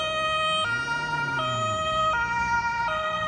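A loud police car siren blares steadily in a two-tone pattern, its pitch switching up and down at regular intervals, during a police operation in Hamburg's Jenischpark.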